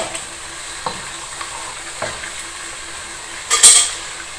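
Chicken browning in oil in a pot for banarasi biryani gives a soft, steady sizzle, broken by a few light clinks of a utensil and a brief louder stirring scrape near the end.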